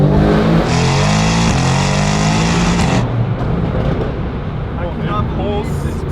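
A car fitted with a new illegal exhaust and downpipes accelerates hard, its loud rising engine roar climbing through the revs and then shifting into second gear with wheel spin, the engine noise continuing under excited voices.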